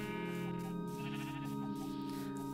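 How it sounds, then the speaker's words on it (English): Sheep bleating in a Minecraft-style video game, a drawn-out wavering bleat sitting over steady layered game music and ambience, fairly faint and continuous across the moment. "Hello, sheep."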